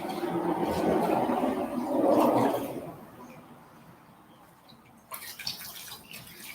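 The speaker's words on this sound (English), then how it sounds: "So kind of rinse it off as good as I can." A dirty rag is rinsed under running water, a close splashing, gurgling flow for about three seconds that then fades to a faint trickle, with a few soft knocks near the end.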